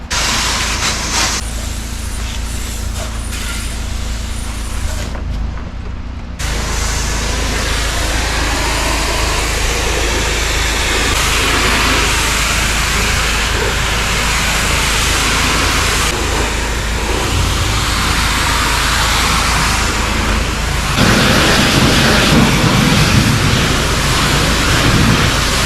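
Steady loud roar of a pressure washer cleaning a deck outdoors, a continuous hissing spray with an engine drone underneath that shifts and swells slightly in the later part.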